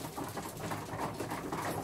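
Pigeons coo softly in a loft, a low murmuring burble repeating under a dull background hum.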